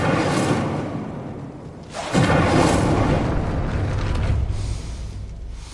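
A fire spell cast in a Hogwarts video game gives a loud whooshing burst around the two-second mark, followed by a sustained roaring rumble of flames that fades slowly.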